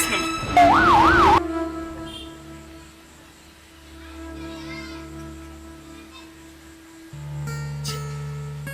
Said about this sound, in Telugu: రాజేష్ అర్జెంటుగా ఇంటికి అంబులెన్స్ పంపించు.